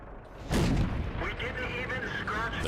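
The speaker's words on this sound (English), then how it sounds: "You can see this gun fires very fast." Tank gun shots in World of Tanks, a fast-firing cannon on a quick reload: one loud booming blast followed by a rumbling decay and mechanical whine, with a voice talking over it.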